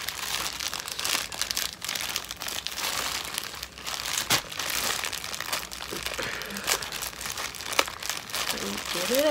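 Gift wrapping paper on a Christmas present crackles and crinkles close by in bursts of rustling and tearing as it is pulled open, while a person talks intermittently.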